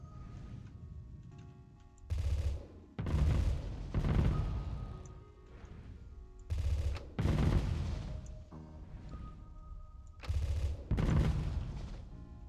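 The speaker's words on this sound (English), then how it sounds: "watch what the storm cannon does here for just a minute" Storm cannon weapon firing in the space combat game Starsector, rapid clustered bursts of booming shots in three repeating volleys, loud over a quieter background hum.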